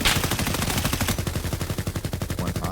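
Rapid automatic gunfire rattles loud and continuous in a competitive first-person shooter tournament match, bursts overlapping with dense repeated shots and no commentary.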